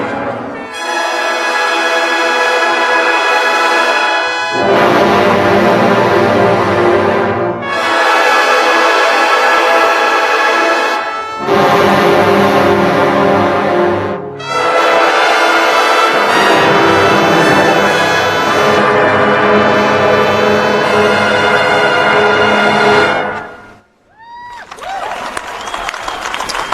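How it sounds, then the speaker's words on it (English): A large massed brass ensemble at the BBC Proms plays loud, bright sustained chords in bursts separated by brief pauses, full and resonant, ending with a quieter passage. "that's the sound of the Prom's brass massive"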